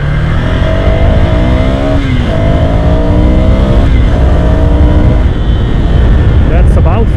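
A Ducati motorcycle engine at full throttle climbing through rising pitch sweeps, easing off and accelerating again in repeated surges, close up with wind rushing past.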